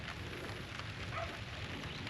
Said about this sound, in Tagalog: salamat Lord at merong konting ambon